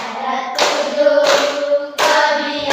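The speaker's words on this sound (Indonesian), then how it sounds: "Tepuk tangan ya." Children clap their hands in three quick bursts of applause, each starting sharply and then sustaining for about half a second to a second, with a steady tonal hum underneath.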